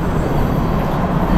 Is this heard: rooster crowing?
no